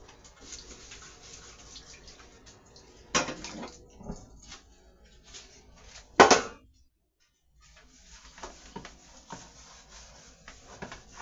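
A pan is handled in a home kitchen while making a savory Italian cheesy loaf of bread, giving soft rubbing and scraping with a couple of sharper clanks, close and moderately loud, with no talking.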